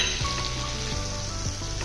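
Ingredients sizzle and fry steadily in a hot pan while a utensil stirs and scrapes through them a few times, close and continuous, during preparation of Ballari-style ugani seasoned with turmeric and salt.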